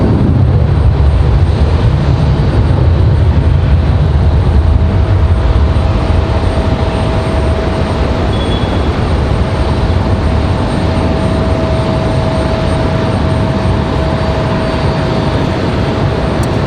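Sun Country jet airliner arriving at Raleigh-Durham International from Wilmington, a steady loud engine roar with a faint whining tone running through it, heard on its own without talk.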